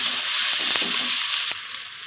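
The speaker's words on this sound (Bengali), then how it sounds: "পেঁয়াজ, কাঁচা লঙ্কা, শুকনো লঙ্কা, টমেটো, জিরে, ধনে পেস্ট নাড়াচাড়া করে নেব।" A paste of onion, green and dried chilli, tomato, cumin and coriander sizzling loudly in a pan for ghugni, a dense continuous hiss with a few faint stirring knocks.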